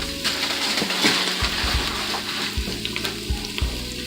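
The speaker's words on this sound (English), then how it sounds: "And put our onions in here. Oh, they're popping and they're talking." Chopped onions sizzle and pop on the saute setting of an Instant Pot, a close, steady frying hiss broken by soft crackles and a few light knocks, with no talking.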